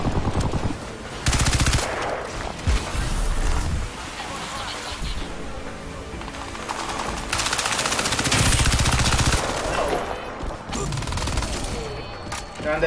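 Automatic weapon fire in the shooter game Crysis 3, with rapid bursts of gunshots in several loud clusters separated by brief lulls, and someone talking over the action.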